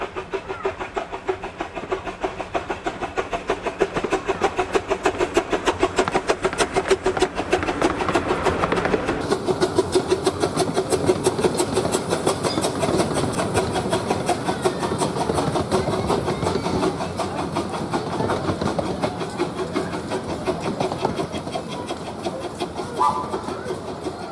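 A 1951 narrow gauge steam locomotive built to an Ernest W. Twining design, working on the Fairbourne Railway, runs with continuous rhythmic chuffing and rail clatter that grows denser and louder midway, with no talk.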